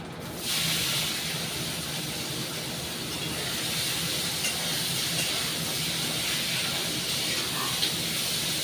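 Vegetables dropped into hot oil with panch phoron, a steady broadband sizzle and hiss that begins abruptly and holds loud and even throughout, close to the pan.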